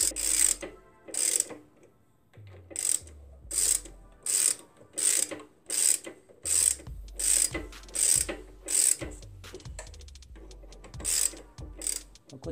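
A ratchet wrench tightens motorcycle clutch cover bolts during a clutch plate change, with crisp repeated bursts of clicking in quick strokes separated by short pauses, close and clear with no talking.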